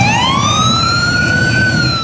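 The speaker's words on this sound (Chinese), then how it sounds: "警报声大作" Emergency alarm siren blaring in an eastern Ukrainian city centre after a Russian S-300 missile strike on a busy restaurant, a loud steady rising wail that holds throughout over low crowd noise.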